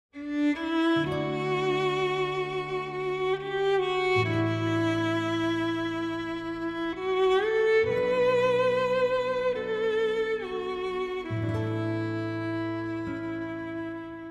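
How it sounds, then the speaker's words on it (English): Instrumental music with classical guitar and strings, sustained harmonic chords shifting every few seconds over steady bass notes, full and continuous throughout with no voices. "Our final use case for today is a music track featuring classical guitar and strings."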